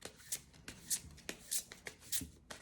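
Tarot cards being shuffled by hand, close and quiet, as a rapid series of riffling bursts with short pauses between them and no talking.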